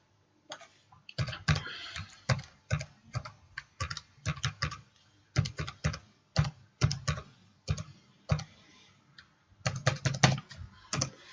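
Password keys tapped on a computer keyboard, close rapid clicking in irregular clusters of keystrokes with short pauses between, steady and fairly quiet, with no talk.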